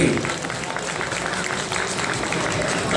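Crowd applause at a live metal concert in a pedestrian street, a dense, continuous clatter of many hands with cheering voices mixed in, loud and sustained throughout.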